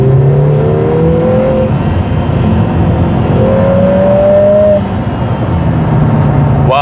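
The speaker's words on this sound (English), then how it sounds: "the valve of the exhaust opens up. So you can hear there's more noise coming from the back" A Lotus Emira i4 turbo with a Milltek exhaust in sport mode accelerates hard. The loud engine note climbs through the revs, drops at a gear change, then rises again, heard from inside the car.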